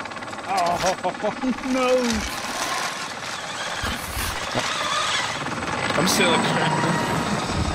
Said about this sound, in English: I can hear the helicopter and everything